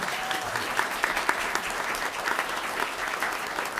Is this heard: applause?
yes